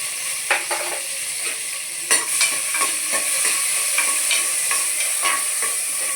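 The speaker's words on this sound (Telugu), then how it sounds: "ఆయిల్ వేసి ఆయిల్ వేడెక్కిన తర్వాత పచ్చిమిరపకాయలు ఇట్లా నుంచి వేసుకోవాలి" Green chillies dropped into hot oil in a pan sizzle and crackle steadily, with a few sharper pops and spatters over a constant frying hiss.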